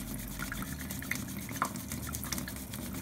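Water runs steadily outdoors at a campsite, rinsing and lathering homemade camping body wash, a continuous close splashing flow with faint drips and bubbling over it.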